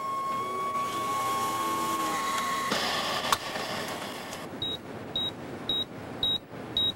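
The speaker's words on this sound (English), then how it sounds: "I programmed my terminal to beep whenever anyone logged into the lab." A steady electronic hum from a computer terminal gives way to a series of five short, evenly spaced high-pitched beeps near the end, signalling a login to the lab.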